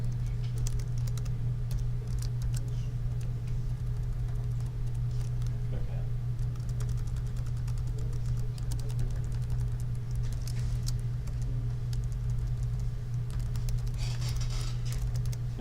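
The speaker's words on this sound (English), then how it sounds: "Oh boy, that's a lot of typing." Steady typing on a computer keyboard during a programming session, continuous soft key clatter over a low constant hum, with brief speech in places.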